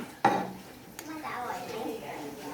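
Palm sugar being stirred into a boiling pot while making a coconut custard jelly dessert: a sharp metallic clink of a utensil against the pot, then softer scraping and bubbling at low level.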